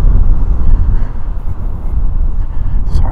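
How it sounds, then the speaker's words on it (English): Strong wind buffets a handheld microphone on a beach, despite two windscreens and a hand covering it, making loud, rough low rumbling gusts that rise and fall throughout. "Sorry about that wind."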